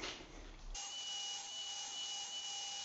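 A Festool Kapex miter saw cuts a dado in wood: a sharp start, then a steady, loud high-pitched whine from the spinning blade that holds evenly to the end.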